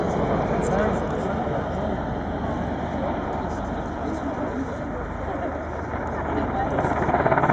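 An Apache helicopter performs a pedal turn at an air display, its steady loud rotor and engine roar filling the air throughout, with a commentator talking over it.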